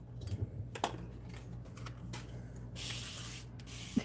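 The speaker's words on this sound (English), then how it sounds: "So I'm just using the spray water." Short hissing bursts from a spray bottle misting water over a craft painting project, sounding quiet and close. One long spritz is followed by a second brief one after a pause, with light rubbing and handling noises before them.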